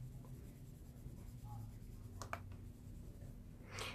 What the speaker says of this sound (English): Holding my pencil back and kind of turning it while I'm coloring.